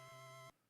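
A phone rings with a single bright electronic tone lasting about half a second, then cuts off to near silence; it is short and clear, with no voices.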